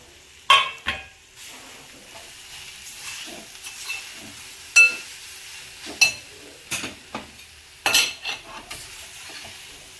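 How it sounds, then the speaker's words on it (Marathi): Grated coconut being stirred in hot ghee in a pan for ukdiche modak, with a spoon scraping and clinking against the metal in irregular bursts over a soft background sizzle. "आता यामध्ये नारळाचा किस टाकणार आहोत"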